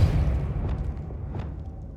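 Depulso force spell in Hogwarts Legacy lands as a deep boom at once, followed by a short rumbling decay with faint scattered impacts.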